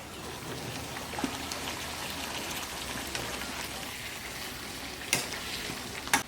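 Mutton being fried down (kasha) in a handi pot, a steady low sizzle and crackle throughout with a couple of sharp scrapes or pops near the end.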